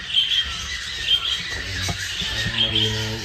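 Newly hatched chicks give thin, high repeated peeps at breeding time, with faint low rustling and scattered clicks underneath.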